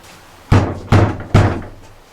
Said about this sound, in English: It was tapping on the door